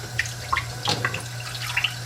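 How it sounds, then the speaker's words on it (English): Cold tap water runs over a Pilot fountain pen nib at a sink, a close, light splashing trickle with scattered drips and small spatters over a low steady hum. "what you want to do with the nib is run cold water down it."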